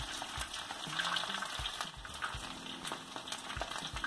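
Grated potato and cheese patties fry in a hot pan, giving a soft, steady sizzle with faint bubbling and occasional light clicks of a utensil against the pan.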